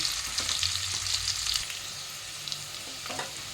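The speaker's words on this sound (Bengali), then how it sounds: "আলুটাকে একটু লাল করে ভেজে নেব।" Potatoes frying in a pan for a Bengali fish roe curry, a bright continuous sizzle with occasional stirring scrapes, close and steady with no talking.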